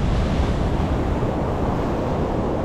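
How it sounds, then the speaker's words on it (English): Ocean waves crash strongly against rocks on a beach at high tide, a loud continuous roar of surf with wind buffeting the microphone. "The waves are crashing strongly against these rocks."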